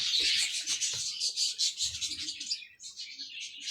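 Pigeons kept in a loft, with soft chirps and wing rustles that come close and repeat irregularly, plus a few faint low coos.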